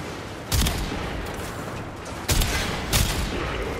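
A shotgun firing in the video game Warframe, three separate booming blasts spaced irregularly over a steady noisy background, each loud and close with a short decay.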